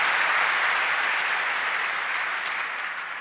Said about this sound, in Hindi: आपको कैसा लगा ये एक बार आपकी तालियों से सूचित करें ताकि उस बच्चे का मन बने।